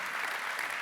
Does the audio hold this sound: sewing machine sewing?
no